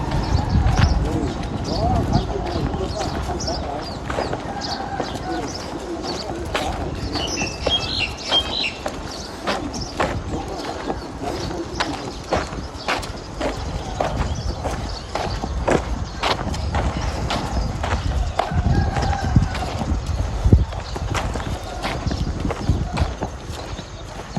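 Horses walking outdoors, their hooves clip-clopping in a steady irregular rhythm of sharp knocks, fairly close, with someone speaking now and then over the hoofbeats.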